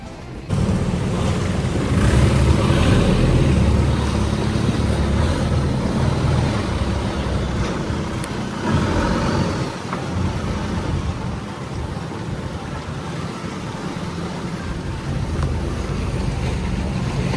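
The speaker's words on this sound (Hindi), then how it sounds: "तो हम इस वाली टेल बोट में थे।" Longtail boat carrying about five passengers around the Phi Phi islands near Phuket, its engine a steady loud drone with heavy wind buffeting the microphone throughout.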